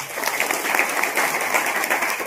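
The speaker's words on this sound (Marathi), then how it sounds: "एकदा त्यांच्यासाठी टाळ्या वाजवा." Applause from a kirtan audience in a village gathering, a steady dense patter of many hands clapping continuously for a couple of seconds with no voices over it.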